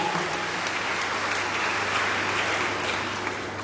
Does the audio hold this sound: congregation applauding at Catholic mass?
yes